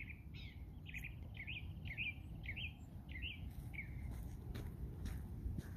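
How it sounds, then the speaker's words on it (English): A small bird sings a repeated series of short chirps in a forest during a morning hike after rain, about eight quick notes in a rhythmic run over a low background of footsteps and ambient rumble. "you hear the birdies"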